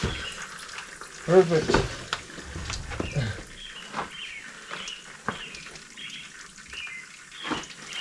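Fluid drains from the engine of a GMC Safari camper van into a bucket, a steady close trickle and splash with a few sharp metallic knocks early on; a voice briefly speaks.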